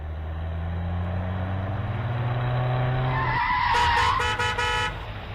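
A car skids with a long loud tire squeal rising in pitch, then a burst of harsh, metallic tonal noise, dense and up close.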